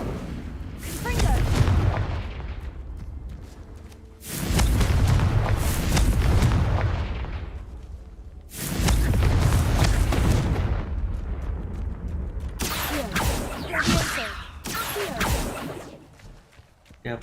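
Confringo explosive spell blasts in the Hogwarts Legacy video game: four heavy, booming bursts a few seconds apart, each with a deep rumble and a crackling tail, loud and close.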